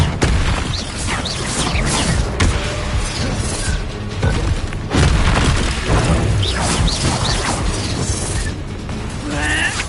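Bombarda blasting spell going off during combat in the video game Hogwarts Legacy, heavy booming explosions bursting repeatedly over a dense, loud mix of clattering effects and battle noise.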